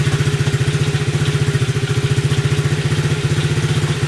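A Chinese TaoTao 110 quad engine, running rich and fouling plugs, idles close up with a steady, even chugging pulse throughout and no other sounds.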